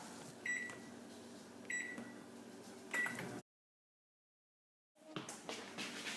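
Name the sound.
microwave oven running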